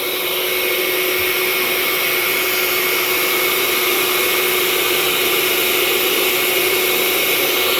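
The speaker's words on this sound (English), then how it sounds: "always keep the hose inside the stove when using, or else you will pull the ash into the room" A vacuum hose draws ash out of a Breckwell P2000i pellet stove during routine cleaning, making a loud, steady, unbroken suction roar with no pauses and no voices.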